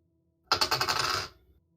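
A four-sided d4 die clatters across a tabletop during a tabletop game session, making one quick rattling roll of about a second that settles into silence, close and fairly quiet.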